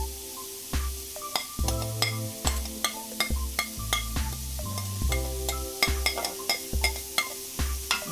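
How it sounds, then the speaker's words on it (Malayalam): Chopped onion and celery are sautéed in a pan for vegetable momos, with a steady sizzle under regular, sharp spoon-on-pan knocks from stirring, close and fairly loud throughout. "വീണ്ടും നന്നായിട്ട് ഇളക്കുക. നന്നായിട്ട് ഒന്നുകൂടെ വഴറ്റുക."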